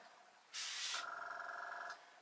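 A single short hissing burst of oven cleaner from a plastic trigger bottle, about a second and a half long, followed by a quiet whine as it ends.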